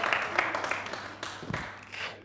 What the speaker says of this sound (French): Voilà, merci de l'applaudir.